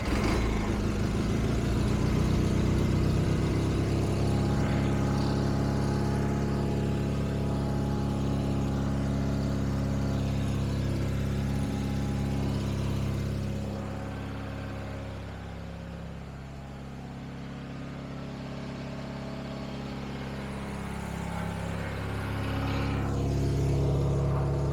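A 1980 IH Cub Cadet 582 garden tractor runs in high range, a steady loud engine drone with a deep hum that dips slightly in the middle before rising again, close by and without talk.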